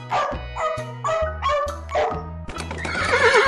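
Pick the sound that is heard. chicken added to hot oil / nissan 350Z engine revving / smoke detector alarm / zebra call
zebra call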